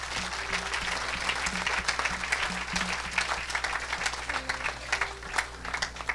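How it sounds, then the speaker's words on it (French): A church congregation at a Sunday service of evangelist Jp Makanzu applauding for Jesus Christ, dense steady clapping from many hands with a low musical hum underneath. "Est-ce qu'on peut acclamer pour Jésus-Christ?"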